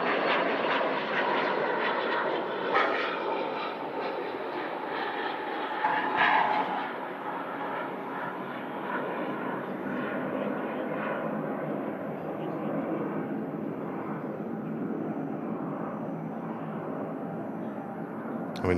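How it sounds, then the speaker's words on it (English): Pilatus PC-24 business jet taking off at Manchester Airport, a steady, fairly distant jet roar that slowly fades over about nineteen seconds, with faint voices in the background. "Could have that Pilatus PC-24 just take off as well."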